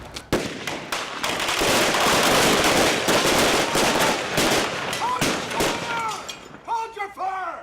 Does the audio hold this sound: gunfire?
yes